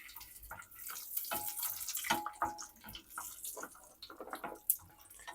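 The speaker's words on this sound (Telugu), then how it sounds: "నెయ్యి కాగితే నేను జీడిపప్పు యాడ్ చేసుకుంటున్నాను" Cashews dropped into hot ghee for a spicy chicken pulao, giving a busy crackling sizzle with sharp pops and bursts throughout, close and fairly quiet, with no voices.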